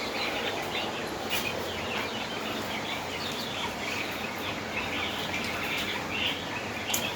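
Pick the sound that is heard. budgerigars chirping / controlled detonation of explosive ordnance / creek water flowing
budgerigars chirping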